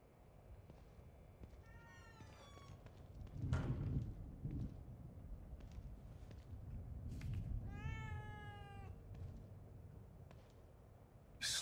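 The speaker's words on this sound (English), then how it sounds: "A cat." Cat meowing in the horror video game The Evil Within 2, two clear drawn-out meows a few seconds apart over a low, murky ambient rumble with scattered soft thuds.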